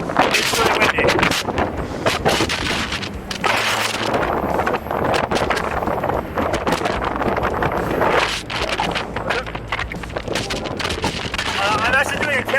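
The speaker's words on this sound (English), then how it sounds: "It's crazy windy." Strong wind buffets a microphone while riding an electric vehicle through the mountains, a loud continuous roaring rumble with gusty surges, and a voice speaks over it at times.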